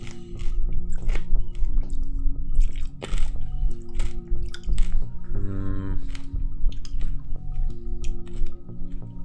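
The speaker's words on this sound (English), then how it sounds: "Sorry if you guys hear me chewing." Close, wet chewing and squishing of a cough drop in someone's mouth: irregular crunchy clicks and soft squelches over a steady background tone, with no talk.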